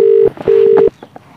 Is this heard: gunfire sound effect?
no